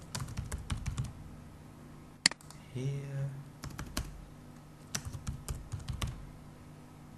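Typing on a computer keyboard while filling in a form on screen, bursts of light clicking keystrokes separated by pauses, close and fairly quiet, with one sharp click and a brief spoken word in between.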